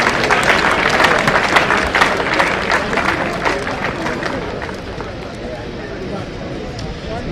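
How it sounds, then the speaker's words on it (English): Audience applause at a commissioning event marking the first barrel of oil from the Jubilee Field: dense, loud clapping from a large crowd that gradually thins and softens over several seconds, with voices mixed in. "I think we can do a bigger round of applause for them."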